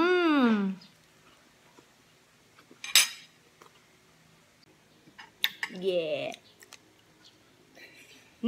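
Cutlery clinks against a plate as someone eats pancit noodles, with a few sharp metallic taps and scrapes spaced between stretches of quiet, and a person's voice heard briefly at the start, middle and end.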